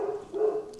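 Dogs in a home bark once in a short, muffled, moderately loud burst, heard indoors from a little distance with no talk.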